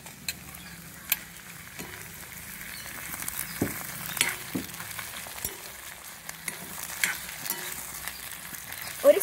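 Tomatoes frying in a pan for a tomato chutney, with a soft steady sizzle and scattered crackles and pops, plus a few faint utensil clinks.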